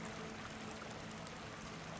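Spring water splashes and trickles through a quiet, snow-dusted forest, a soft, steady pouring murmur heard alone at low level.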